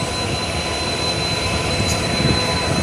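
A diesel train engine rumbles steadily at Rangiya Junction while cement is unloaded from the train, a loud continuous broadband roar with a faint high whine throughout.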